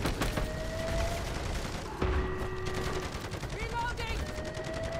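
Sentry guns fire in rapid bursts during a Modern Warfare 3 Zombies red worm boss fight, steady gunfire layered with tonal game effects while players talk over it.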